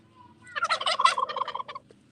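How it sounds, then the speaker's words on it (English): Turkeys and other fowl gobbling near a backyard coop at dusk, a loud burst of overlapping gobbles lasting about a second and a half over a low steady background hum. "pretty soon all the birds will be going in. And because it's getting dark"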